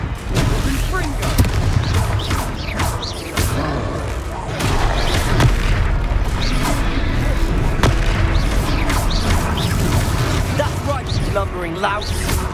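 Confringo spell blasts in Hogwarts Legacy during a troll fight: repeated booming explosions and thuds over a dense, continuous game soundtrack, with voices shouting throughout.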